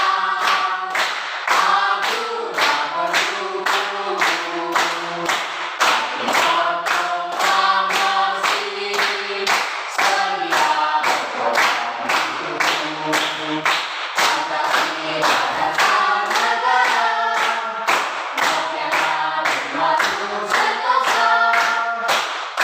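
Children in a classroom sing a patriotic song together while clapping steadily on the beat, the regular claps running throughout beneath the group singing.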